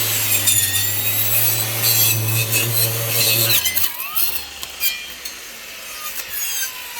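A brush cutter's saw blade chews through thick goosefoot weed stalks in a field, a loud steady whining drone with rasping cutting noise that bogs down and stops abruptly partway through, leaving scraping and rustling afterward.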